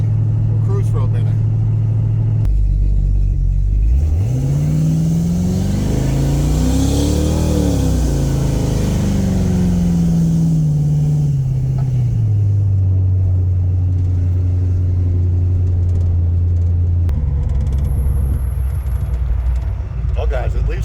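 Pontiac LeMans with a 400 engine cruising, a loud deep engine drone that rises and falls through revs and gear changes, steady and close, with someone talking over it.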